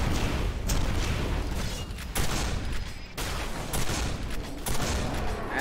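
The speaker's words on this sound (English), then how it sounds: "Gladiator. Type of rocket launcher." Sustained, dense explosive gunfire and blasts from a rocket launcher in the 2005 video game Quake 4, loud and continuous with several sharp breaks, no talking.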